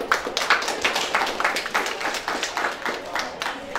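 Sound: audience applause

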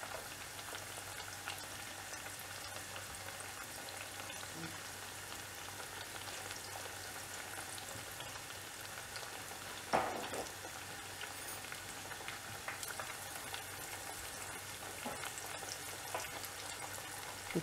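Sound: spring onion masala vadai frying in oil

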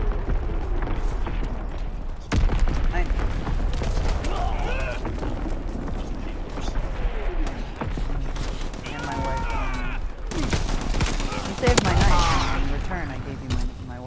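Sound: gunfire in video game Call of Duty WW2

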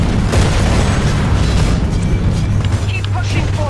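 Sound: rocket explosion in video game Titanfall 2

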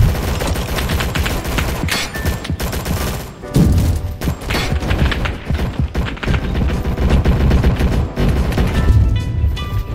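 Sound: explosion and gunfire in the Roblox game Rolling Thunder

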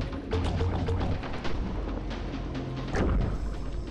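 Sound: gunshot in video game Death in the Water 2

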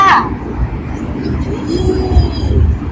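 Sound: voice imitating a train chugging

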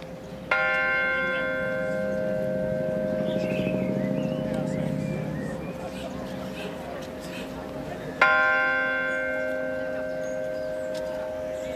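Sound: memorial garden bell ringing

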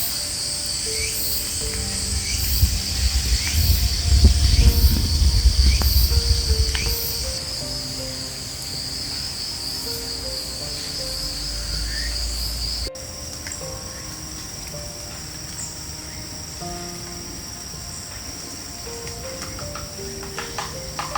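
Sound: cicadas buzzing in forest

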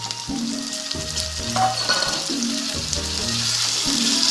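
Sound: potatoes frying with onions in pan

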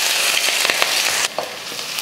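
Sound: sautéing carrot, beans, onion and green chili in hot oil

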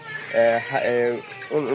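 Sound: CPF-3 (Sonali) chicken clucking

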